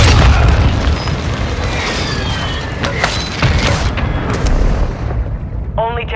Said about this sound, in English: Mortar strike, fast solid cover.